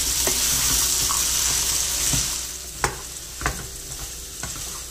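Chickpeas sizzle in frying masala in a hot pan as a spoon stirs through them, with a few sharp clacks of the utensil against the pan.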